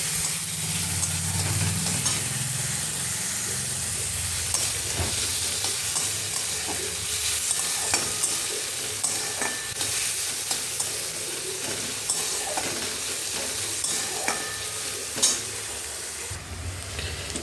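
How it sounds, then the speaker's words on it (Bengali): Chopped garlic, onion and chilli sizzle steadily in hot oil in a pan, with a utensil scraping and stirring in irregular scratches throughout; a close, continuous frying hiss with no talking. "এবার এটাকে একটু ভাজা ভাজা করে নেব।"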